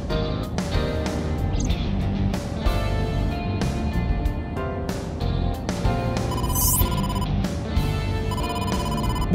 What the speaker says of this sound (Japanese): ボスから電話だ